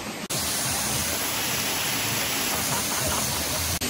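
Waterfall at Lanai Falls, Hawaii, reached partway along a hiking trail: a steady, loud broadband rush of falling water that holds constant throughout, with no voices over it.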